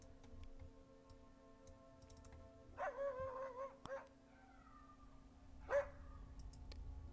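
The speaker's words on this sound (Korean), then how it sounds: "미친듯이 짖기 시작했습니다." A dog barks wildly as a sound effect, giving a few sharp, fairly faint barks in bursts over a soft ticking and a steady low hum.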